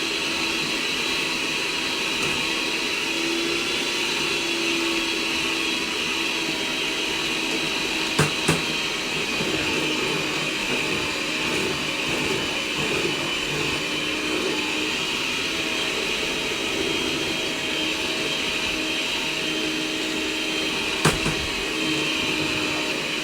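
An electric hand beater whirs steadily as flour, baking powder and salt go into apple walnut brownie batter, a continuous close motor hum with no talk over it.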